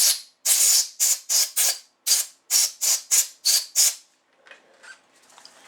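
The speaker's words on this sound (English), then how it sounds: "Here's some can of air." A can of compressed air blows out parts of a Leslie 122 amplifier in sharp, close bursts, about a dozen short hissing blasts in quick succession, then faint handling noises.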